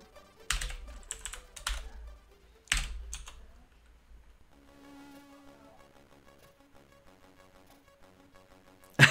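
Close, clattering keystrokes on an original Commodore VIC-20 computer keyboard come in a few quick bursts, then give way to quiet electronic beeping tones and a final sharp click.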